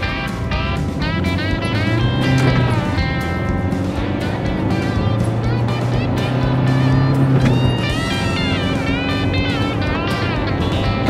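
A 2005 Citroen Xsara Picasso pulls out of a junction and accelerates hard toward 60 mph, engine note climbing through the revs with gear changes, steady cabin drone close up throughout.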